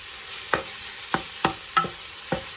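Sausage browning in a pan for chili, with a quiet steady sizzle broken by five or six sharp scraping knocks as a utensil stirs and hits the pan.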